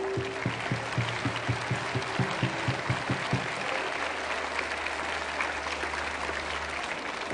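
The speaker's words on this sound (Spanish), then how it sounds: "vamos a iniciar saludando con un fuerte aplauso a nuestro santo patrón" Applause greets the patron saint San Luis Gonzaga at a school's academic-year opening ceremony, a sustained crowd clapping heard at moderate level while low rhythmic tones sound in the first half.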